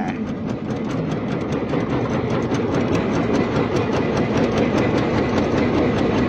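Engine of a new trawler boat chugging on a canal, a loud, steady mechanical drone with rapid rhythmic knocking that runs the whole time with no talk.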